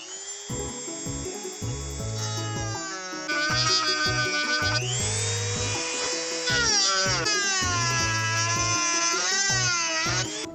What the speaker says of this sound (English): I'm going to take my Dremel and I'm going to do a quick little notch